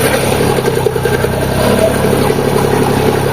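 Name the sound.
tractor engine started after eight months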